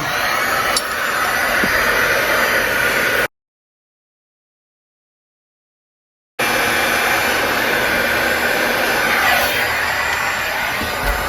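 A heating tool blows hot air onto a SuperFlux motor magnet with a steady, loud, close whooshing roar, cut off abruptly for a few seconds of silence before resuming just as before.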